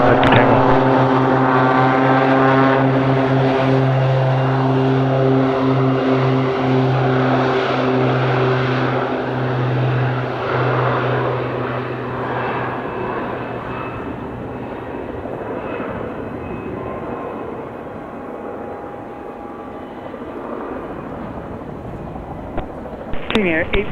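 A general aviation propeller airplane takes off from runway 26 left at Spirit of St. Louis Airport, its engine droning loud and close before fading steadily into the distance as it climbs.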